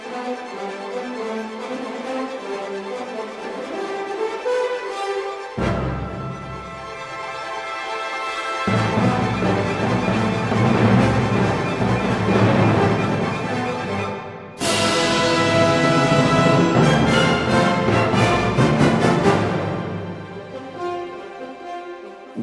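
Full orchestral music from a movement of Gustav Holst's seven-movement orchestral suite plays alone, building through several dense, loud passages with sudden shifts in texture and swelling brass and strings.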